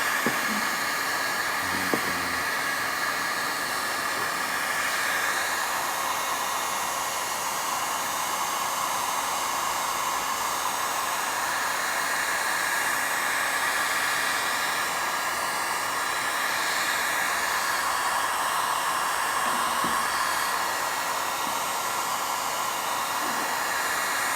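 A Silverline heat gun runs continuously, a steady airy roar with a constant whining tone, close and unchanging throughout, a small clunk near the start, used for body repairs on a VW Transporter T5 van, no voices.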